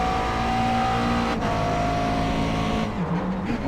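A race car engine drones loudly and steadily at Watkins Glen in iRacing, its pitch holding and then dropping near the end as the car slows for a corner.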